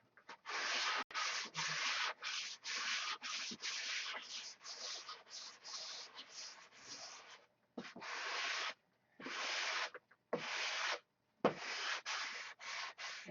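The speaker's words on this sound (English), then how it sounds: "I'll come back and sand that piece" Hand sanding a piece of wood for a control-line P-51B electric model plane, a steady run of back-and-forth rubbing strokes with short pauses between passes, close and alone with no talking.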